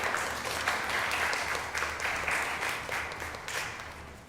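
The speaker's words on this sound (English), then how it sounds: "let's give her a round of applause" Audience applause for a local history speaker, a steady medium-sized crowd clapping for a few seconds at moderate distance, fairly quiet overall.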